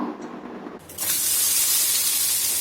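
Oil hisses into a steady, loud sizzle on a hot stone griddle as a sheet of foil paper is flipped over, the spray rising abruptly after a quieter start and holding on.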